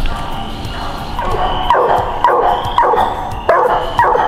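Hunting dog bays at a treed raccoon during a night coon hunt, loud and close, with sharp barks repeating roughly every half second to second over a steady background.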